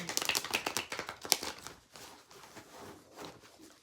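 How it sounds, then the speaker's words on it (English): Rapid papery riffling and tapping of tarot cards being shuffled close up, busy at first then softer shuffling. "So we're going to shuffle one more card and get the overall energy."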